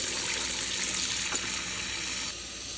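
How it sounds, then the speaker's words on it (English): Warm water runs from a kitchen faucet into a stoppered sink to clean a garbage disposal, a steady close hissing gush that softens slightly near the end as the basin fills. "take your sink stopper, fill it full with warm water and a little bit of dish soap"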